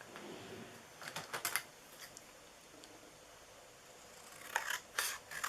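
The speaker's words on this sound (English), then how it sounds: "This time I'm just going to cut it out." Scissors cut out a paper die piece for a Valentine's heart treat box, making crisp, quiet snips that come in two short clusters, close by, with a near-silent pause between them.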